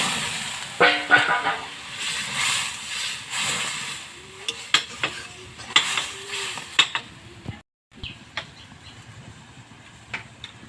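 Water with slit green chillies poured into a pan of frying garlic, giving a brief splash and hiss followed by clinks of utensils and scraping, with a short gap near the end.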